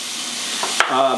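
Steady broadband hiss of lemon garlic shrimp frying in a hot pan, with a brief clatter near the end followed by a short tonal squeak.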